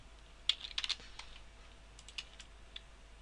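Faint, quick bursts of keystrokes on a computer keyboard, a short cluster of clicks followed by a few scattered taps in a quiet room.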